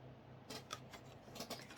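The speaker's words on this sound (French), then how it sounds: "Je découpe en tenant mes ciseaux dessous" Scissors snipping through paper, held from below while cutting out shapes, a close series of several crisp irregular cuts in a quiet room.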